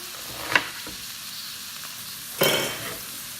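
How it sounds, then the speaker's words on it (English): Onions fry in a pan over medium heat with a soft, steady sizzle, broken by two clattering scrapes of stirring. "And I just put it in a medium heat and stir it once in a while so they don't burn"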